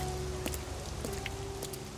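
Steady rain falling over gloomy London, a dense, even hiss of drops that fills the whole stretch without pause, with a few faint patters and a low hum underneath, used as a sound effect in an audio drama; no voices.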